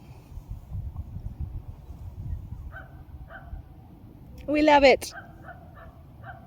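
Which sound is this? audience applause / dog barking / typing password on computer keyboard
dog barking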